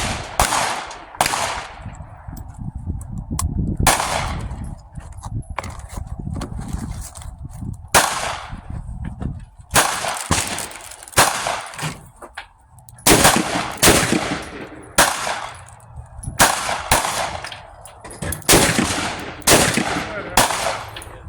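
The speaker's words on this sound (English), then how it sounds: "Pistol I'll be shooting today is my Smith & Wesson 460." A Smith & Wesson 460 revolver with a 5-inch barrel and removable compensator fires 454 Casull rounds at an outdoor range: a long series of loud, sharp, booming shots, some singly and some in quick pairs, with short gaps between.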